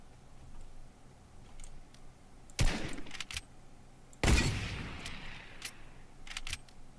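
Two loud gunshots blast in a video game, each with a sharp crack and trailing rumble, amid faint clicks and a few softer pops at steady game background level.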